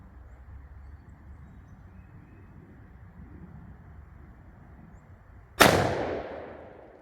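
A single shotgun blast fired while sighting in a red dot for turkey season, one sharp loud report late on after quiet outdoor wind noise, with a trailing echo fading away.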